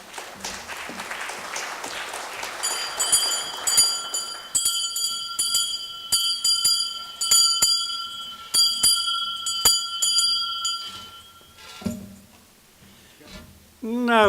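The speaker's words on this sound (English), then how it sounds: "That was the Shantytown school bell" The Shantytown school bell rings in rapid repeated clangs for several seconds, bright and clear, then gives way to clapping and crowd noise.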